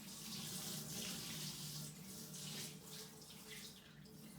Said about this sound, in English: Finally adding the water to the aquarium.